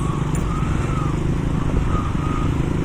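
Heavy road traffic on a road near Siravanapatti, Coimbatore, fills the scene with loud, continuous engine rumble and tyre roar from cars, trucks and motorcycles, with no letup across the whole stretch.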